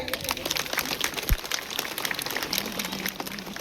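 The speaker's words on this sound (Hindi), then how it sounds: "तालियां बजती रहनी चाहिए" An audience at a school annual function applauds with continuous, dense clapping that fills the whole stretch, loud and close.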